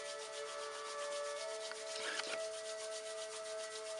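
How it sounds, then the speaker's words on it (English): Hands rub together briskly in a steady, soft, dry swishing that continues for a few seconds, close and alone in a quiet room. "This one's a good one to start by rubbing the hands together."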